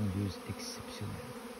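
A swarm of honeybees buzzes in a garden as a colony swarms, making a dense, steady droning hum that stays close and even for a moment.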